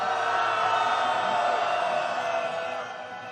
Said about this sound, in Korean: 김건희 구속의 함성 시작!